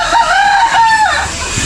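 A rooster crows once, close and loud, its drawn-out call rising and falling over about a second against faint farmyard background noise.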